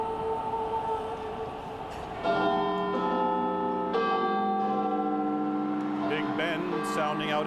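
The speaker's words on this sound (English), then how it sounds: "When the first major gong goes, it will strike 12 midnight." A great clock bell in London chimes out over the Thames crowds just before midnight on New Year's Eve 1999, ringing loud, resonant strokes that sustain and overlap while faint crowd noise continues beneath.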